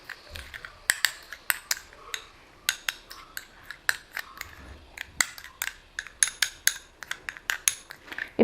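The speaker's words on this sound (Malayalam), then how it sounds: "കുറച്ച് റോസ് വാട്ടറും കൂടി ഒഴിച്ച് മിക്സ് ചെയ്ത് നമുക്കിത് സ്ക്രബ് ചെയ്യാവുന്നതാണ്." A spoon stirs a face scrub of masoor dal powder, aloe vera gel and rose water in a small bowl, giving a steady, close series of sharp clinks and taps with faint scraping between them.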